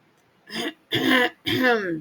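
Three short, raspy throat-clearing coughs in quick succession, close and fairly loud, with brief silences between them.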